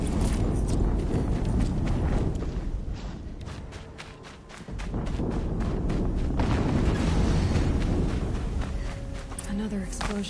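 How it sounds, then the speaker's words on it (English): A loud, rumbling explosion roars as dense, sustained noise, briefly thins, then surges back with a second blast, while voices sit faintly underneath. "Another explosion."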